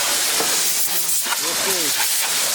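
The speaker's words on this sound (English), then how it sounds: "Alright, get out the old oven cleaner." Aerosol oven cleaner hisses in short sprays onto an abandoned 1982 Nissan Datsun 720 King Cab truck, a close, steady rushing spray with faint outdoor noise behind it.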